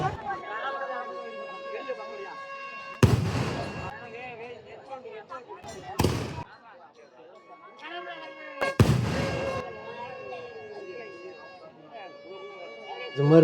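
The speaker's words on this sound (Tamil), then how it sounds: "வேறு லெவலில் வெடிச்சு செதற விட்டுட்ருக்காங்களா" Three loud, sharp skyshot firework blasts burst a few seconds apart at a temple festival, each fading quickly, over a steady background of voices and a high tonal hum.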